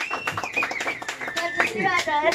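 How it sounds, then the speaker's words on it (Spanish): An audience claps at a birthday mariachi performance, brief brisk applause under a voice speaking over it. "aplauso bien bonito nos escucha."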